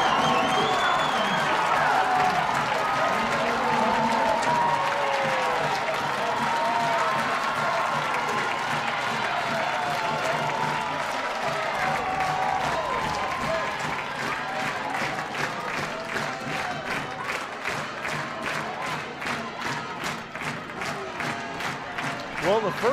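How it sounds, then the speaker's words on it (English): A softball stadium crowd at an Oregon versus UCLA game roars and cheers after a home run, loud sustained cheering and whoops that settle into rhythmic clapping toward the end, with a commentator talking over it. "listen to that crowd"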